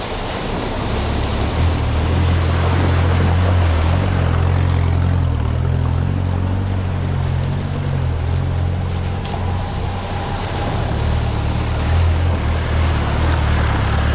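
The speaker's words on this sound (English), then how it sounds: "A little bit of a water crossing to do. We're straight into it." An off-road vehicle drives through a water crossing on a snowy Yorkshire moor lane, with a loud, steady engine drone and continuous rushing, splashing water close by throughout.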